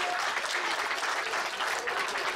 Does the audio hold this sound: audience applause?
yes